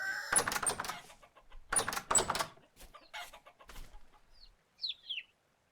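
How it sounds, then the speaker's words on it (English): Chickens and small chicks in a coop within the Vintage Story game, giving bursts of clucking and chirping in several clustered calls, moderately close, with a few high peeps near the end. "There's some babies in the chicken coop."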